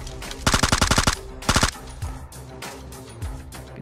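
AWM sniper rifle gunfire in the mobile shooter game PUBG Mobile, with sharp bursts of rapid shots in two loud clusters followed by fainter scattered shots and game sounds.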